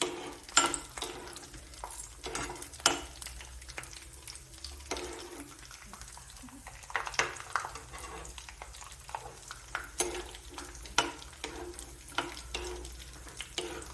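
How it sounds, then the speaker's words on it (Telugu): Cashew nuts frying in a pan for mushroom curry, a faint sizzle under scattered clinks and scrapes of stirring. "జీడిపప్పు కొంచెం బ్రౌన్ కలర్ వచ్చేదాకా వేసుకోవాలండి"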